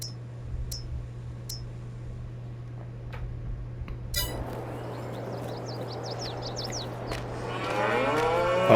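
Cows low and moo in cow pens on a Farming Simulator 22 farm, amid a steady hum and scattered clinks, with bird-like chirps and bellows growing louder toward the end, and no talking.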